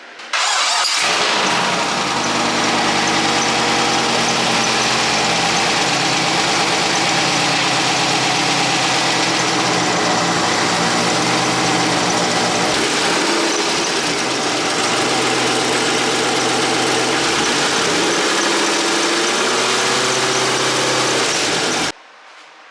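A C5 Corvette drift car starts and idles during an oil cooler test run, its V8 running loud and close with a steady rumble and slight variations in pitch for about twenty seconds before shutting off abruptly.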